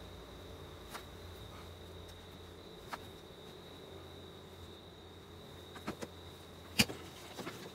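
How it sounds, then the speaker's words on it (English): Bees buzz faintly as a hive is winterized at dusk, a thin steady drone with a few scattered soft clicks and taps, distant and quiet. "Hear the buzz of the bees, I hope."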